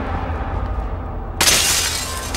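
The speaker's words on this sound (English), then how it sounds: "How am I supposed to break the glass?" A glass window shatters in the horror video game Cry of Fear, a sudden bright loud crash after a low ambient hum, with the breaking noise ringing on for about a second.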